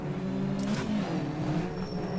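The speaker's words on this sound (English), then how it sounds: "The engines of the other cars are kind of drowning out mine" Race car engines in the rFactor racing game, several cars droning and revving together at high pitch, loud and continuous, with a brief whine of a car passing near.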